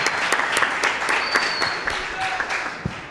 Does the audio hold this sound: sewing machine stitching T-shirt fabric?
no